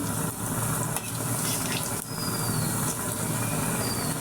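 Gondhobhadal leaf fritters frying in hot oil, a loud, continuous close-up sizzle that holds steady throughout with brief dips as the pieces are turned, no talking.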